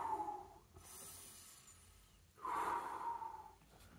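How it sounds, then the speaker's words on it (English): A person taking deep breaths while watching an ice hockey playoff game between the Rangers and Devils: two long, audible breaths, a slow exhale, a pause, then another drawn-out breath, close and fairly soft with no talking. "Deep breaths. Deep breaths."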